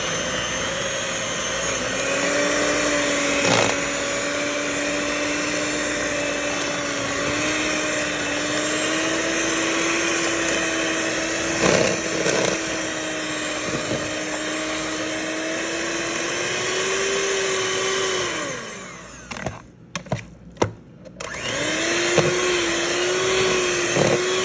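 A hand mixer whirs steadily for about eighteen seconds, mashing cauliflower with butter, cheese, half and half and onion powder, its pitch shifting slightly as it works, then stops and restarts briefly with clattering bumps.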